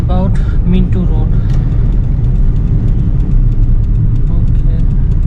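A manual car is driven at night along Mintu Road near Uttara Adhunik Hospital, its engine giving a steady, close low rumble throughout, with a brief voice near the start; distinct gear shifts are not clearly separable.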